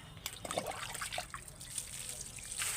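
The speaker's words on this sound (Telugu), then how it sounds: "ఇప్పుడు ఇందులో అయితే వాటర్ వేసేసుకుందాం మొత్తం" Water trickles and pours into a tub of soil being readied for planting, a soft, close, steady flow at low level with no talk.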